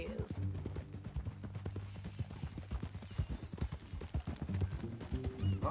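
Horse hooves clip-clop in a steady rhythm on a dirt path in the video game Red Dead Redemption 2, close and continuous under quiet background music.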